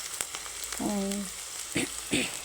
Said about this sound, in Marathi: चांगलं थोडासा कलर बदलेपर्यंत मी कांद्याला परतून घेणार आहे कलसून